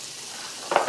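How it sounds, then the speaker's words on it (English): Food begins to sizzle in a frying pan in a summer home kitchen, a soft hiss that swells into a brief louder crackle near the end. "sizzle."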